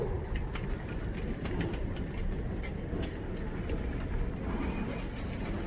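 A long freight train made up of mixed junk cars rolls past on the railroad, a continuous low rumble with scattered metallic clanks and squeals, heard at moderate distance throughout.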